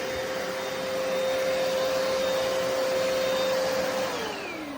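Hoover PowerDash Pet FH50700 carpet cleaner running close by: a loud, steady motor whine with broadband suction rush, its pitch dropping slightly near the end.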